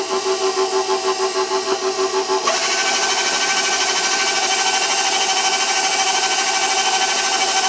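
Electric mixer stirring cake batter for a birthday cake, a continuous whirring hum that jumps to a brighter, faster speed partway through and then runs steadily, close and fairly loud.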